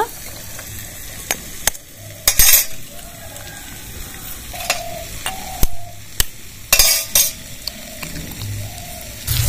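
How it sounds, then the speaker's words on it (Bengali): Chopped onion and chilli frying in a pan, a steady sizzle broken by sharp metallic scrapes and clinks of a spatula stirring against the pan. "পেঁয়াজ লঙ্কাটা এইভাবে ভেজে নিতে হবে।"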